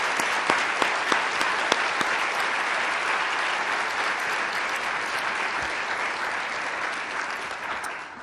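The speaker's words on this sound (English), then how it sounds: "Please join me again with a round of applause" Sustained, dense applause from a large audience at a formal awards ceremony, steady and loud throughout with a few sharp claps near the start, fading slightly at the end.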